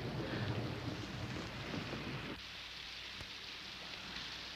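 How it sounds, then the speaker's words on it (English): Stormy weather with a broad, steady rush of wind and rain, loud and dense for the first half, then settling into a softer, even roar with a faint crack near the end. "I think it's the sound the wind makes."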